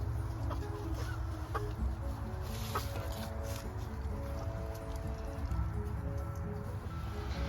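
Chickens cluck in low, intermittent murmurs close by, over a steady outdoor background hum.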